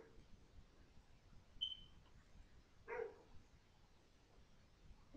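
A dog barks faintly in the distance, one or two brief barks against a quiet background.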